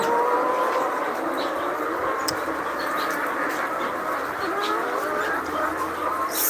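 Layer hens on a poultry farm fill the air with a steady, busy chorus of clucking and chattering, a dense continuous din from many birds at close range.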